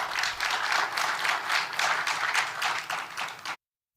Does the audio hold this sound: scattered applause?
yes